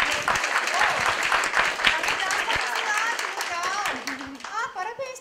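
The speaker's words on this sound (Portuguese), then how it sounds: "A gente precisa aprender a bater palmas" Several people clap their hands together at a small indoor gathering, a steady patter of claps running throughout, mixed with overlapping voices and children's chatter.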